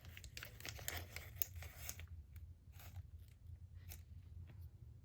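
Material being cut off in a few quick snips, crisp crinkly cutting bursts close up for the first two seconds, then fainter scattered clicks and rustles over a low background hum.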